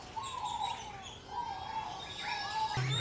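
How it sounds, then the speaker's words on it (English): Birds in a zoo aviary chirp and call in a busy chorus, bright warbling notes and sliding whistles overlapping close by, with a brief low thump near the end. "But very pretty birds in here. Very vocal today, making all kinds of noise."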